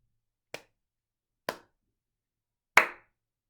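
Three separate sharp hand claps, spaced about a second apart, with the last one louder and ringing briefly; close and dry, with silence between them and no voices.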